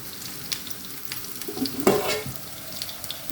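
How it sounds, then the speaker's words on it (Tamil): Crushed garlic cloves fry in oil for a Kongu-style black-eyed pea and brinjal kuzhambu, giving a soft continuous sizzle with a brief louder crackling burst midway. "எண்ணெய் ஊற்றிட்டு பூண்டு ஒரு அஞ்சாறு பல் தட்டி போட்டிருக்கிறேன்"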